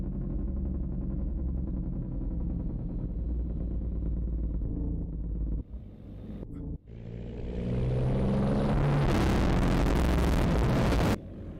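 Truck engine in a driving video game, a deep low rumble that drops briefly twice, then swells louder and harsher as revs climb before cutting off near the end.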